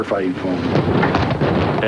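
A large pyrotechnic explosion unleashes a loud, continuous rolling rumble that fills the whole two seconds without letting up.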